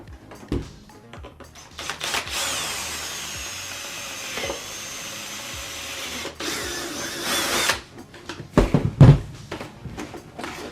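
A power drill drives the last screw into a screen-accurate Stormtrooper helmet, a sustained whining buzz of about four seconds, preceded and followed by handling knocks and clicks of the plastic shell.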